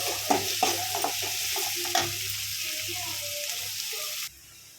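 Onions sautéing in a pan for egg gravy, giving a continuous close sizzle with a few sharp scraping stirs near the start, then settling into steady frying before cutting off abruptly near the end.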